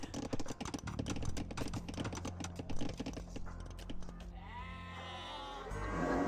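Rapid keyboard typing clatters over a low hum, followed by a short wavering sheep bleat from the game Age of Empires 2: Definitive Edition near the end.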